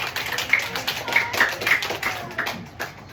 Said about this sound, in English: Can everyone give Brooklyn a round of applause